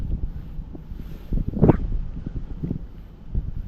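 Headwind at sea buffets the microphone during night fishing from a boat for barracuda, a continuous close rumbling gust that peaks briefly, with water and boat noise beneath and no speech.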